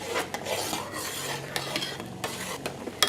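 A spoon stirs miso paste into soup, making close, continuous scraping and rasping against the pot bottom, with several sharper clinks and no speech.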